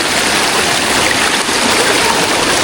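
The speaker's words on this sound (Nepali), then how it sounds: "यहाँ पनि खोला रहेछ" A river stream at Bhimphedi, Nepal rushes steadily with loud, close, continuous broadband water noise and no talk.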